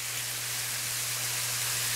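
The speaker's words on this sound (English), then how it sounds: "just to hear that frying and that grease and that oil" A steady, dense sizzle of grease frying in a cast iron skillet, hissing continuously and close up, with a faint low hum beneath.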